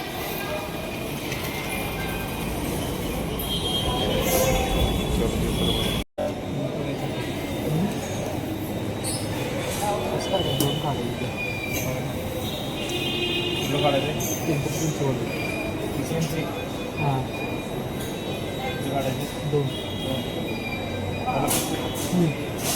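A Pune metro train runs with a steady rumble and occasional wheel squeals, under frequent talk from nearby people and a brief dropout partway through.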